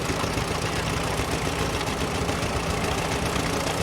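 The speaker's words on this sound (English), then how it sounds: "There's LAK coming on now. It's a pretty heavy tractor, very heavy in the back end" Heavy tractor with a weighty rear end running steadily at a rural heritage rally, a loud continuous engine drone with low rumble and vibration, no voices.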